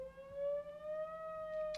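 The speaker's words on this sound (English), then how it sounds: "That's the alarm, meaning it's time to get started." A weekly alarm siren sounding near a school and church, a steady tone with rising harmonics that holds for the whole short moment, heard at moderate distance and fairly faint, without any talking.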